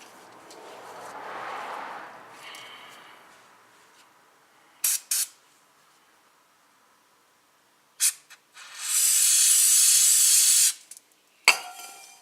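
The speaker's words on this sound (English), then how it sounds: "Squirt it on the rag, or you can squirt it on the rotor." Brake cleaner sprayed from an aerosol can onto a rag or the front brake rotor of a 2007 Chevrolet Cobalt: a few short close hissing bursts, then one long steady spray of about two seconds, with quiet gaps between.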